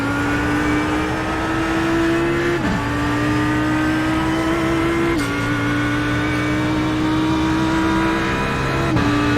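An Audi GT3 race car engine at Watkins Glen in the iRacing sim screams loud and close at high revs, climbing through gears with sharp upshift breaks every few seconds and no talk.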